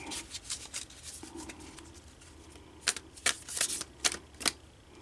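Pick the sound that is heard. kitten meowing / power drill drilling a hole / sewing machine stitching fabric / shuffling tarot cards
shuffling tarot cards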